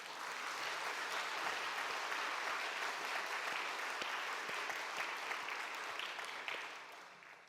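A church congregation claps steadily for several seconds at an elders' retirement and installation service, a dense and even applause that fades slightly near the end.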